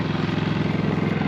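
An old, rarely used generator runs close by with a steady, loud, rough engine drone and a fast regular throb, and no voices over it.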